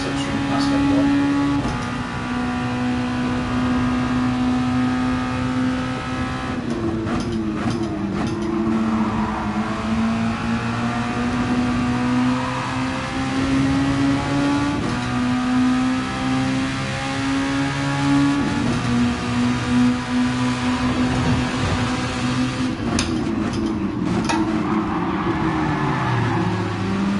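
Race car engines in Gran Turismo Sport at the FIA Nations Cup Dragon Tail race, a steady droning whine rising and falling through gear changes as several cars run close together, with a voice talking over it.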